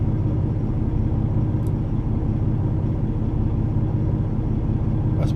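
Sacramento rush-hour traffic backs up around a truck, with a steady low rumble of idling and creeping engines nearby and no voices.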